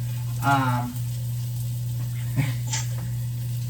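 Meat frying in hot grease at breakfast, a steady sizzle with a few sharp oil pops and crackles over a constant low hum, close by, with no talking.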